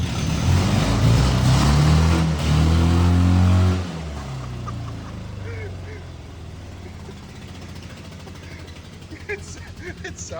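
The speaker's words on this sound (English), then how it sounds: "It sounds like a golf cart." A blown-up mini truck engine idles and revs, sounding like a golf cart; loud droning and revving early on, then settles to a lower steady idle with faint background noise.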